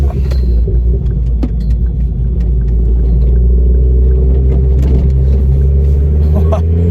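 Deep, steady car exhaust rumble idling close by, a low throaty drone that swells slightly and holds for the whole stretch.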